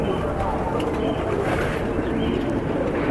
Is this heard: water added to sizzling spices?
no